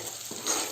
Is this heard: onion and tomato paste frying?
yes